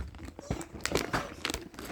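A plastic bag is crumpled and emptied close by, giving a string of crinkling, rustling bursts with short pauses between them and no talk.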